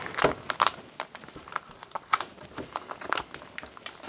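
Tough plastic wrapping being pulled and torn off a Bambu X1 3D printer during unboxing, giving close, faint crinkling and crackling in short irregular bursts.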